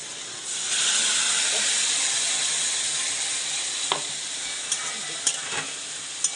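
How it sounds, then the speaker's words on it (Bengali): Cauliflower fries in hot oil with a loud, steady sizzle and hiss as spices are added and stirred in, with a few light clinks of a utensil toward the end. "এখানে ফুলকপি ভাজা হয়ে গেছে, এখন মশলা দেবো। দেখো আমি এই যে মশলা দিয়ে দিলাম"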